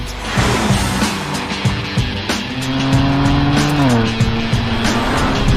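A BMW M2 CS with a front-mounted straight six driving the rear wheels is pushed hard, its engine note rising and falling while the tires squeal and skid loudly and continuously, close by.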